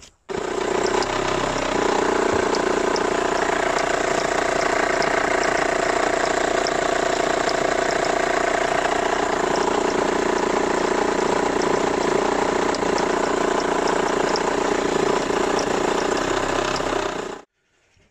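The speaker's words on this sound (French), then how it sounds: "je vais vous montrer le moteur tournant, ce que fait le tendeur de courroie" A 1.3 CDTI car diesel engine idles steadily with a low, even clatter, close and continuous for most of the clip before cutting off at the end.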